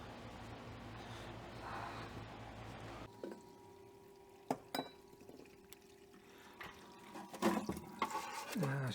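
Solvent pours steadily in a parts washer for a few seconds, then breaks into scattered drips and small splashes, close and fairly quiet.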